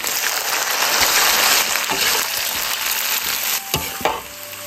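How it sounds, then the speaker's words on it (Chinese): Pork belly stir-frying in a wok of caramelized rock-sugar syrup with ginger, garlic, dried chilies and bay leaves, a loud close continuous sizzle broken by a few clanks and scrapes of the spatula, no talking. "糖色炒好，把肉倒回来上色。"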